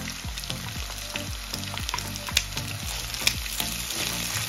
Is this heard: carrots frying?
yes